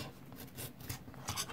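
Small square sheets of colored origami paper are creased and folded in half, producing soft brushing rubs and a few crisp swipes up close, faint and without speech.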